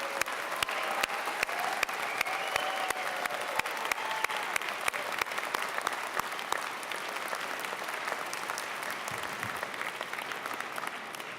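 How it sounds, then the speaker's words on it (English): An audience at a university engineering convocation applauds its newly graduated fall 2018 class: sustained clapping from a large crowd, steady and even throughout, with a few sharper individual claps standing out near the front. "let us give a warm round of applause to our newest class of fall 2018"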